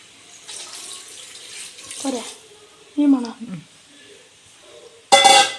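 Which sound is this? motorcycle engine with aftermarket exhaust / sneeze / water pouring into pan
water pouring into pan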